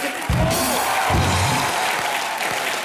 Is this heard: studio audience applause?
yes